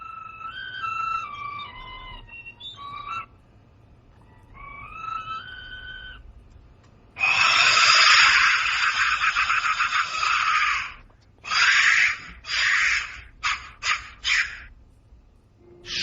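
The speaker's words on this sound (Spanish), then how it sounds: "Sonido percutiendo el interior de uno de estos silbatos intactos de la muerte" A shrill, harsh whistling wail from a skull-shaped clay Aztec death whistle bursts out loudly after softer tonal hoots, then repeats in several short blasts, with no voices.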